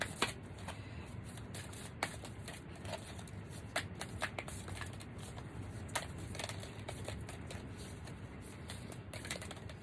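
Tarot cards that don't slide well being shuffled by hand, a steady run of soft riffling and flicking close up, with scattered sharper card snaps over a low room hum.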